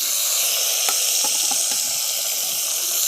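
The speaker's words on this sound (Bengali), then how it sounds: "বাকি মাছগুলোকেও ভেজে নিচ্ছি একই রকমভাবে।" Mourola fish frying in oil, a steady close sizzle and hiss running throughout with a few small pops and crackles, no talk.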